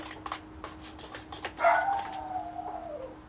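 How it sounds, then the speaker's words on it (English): A pet dog howls in another room, a rising, wavering, moderately faint wail muffled by distance, with scattered clicks and kitchen clatter nearby. "I don't know if you can hear my dog going crazy in there"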